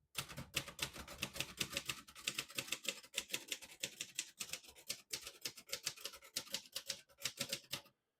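A 1957 Royal Quiet De Luxe portable typewriter types in red, producing a rapid, uneven run of sharp mechanical key strikes up close, with brief pauses between bursts and no talking.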